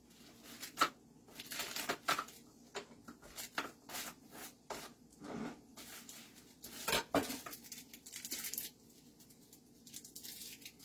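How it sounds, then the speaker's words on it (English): A knife chops chocolate on a cutting board in a home kitchen, giving irregular sharp taps and scraping rubs close by, with short pauses between bursts and no talking. "I'm just using that for chopping up my chocolates."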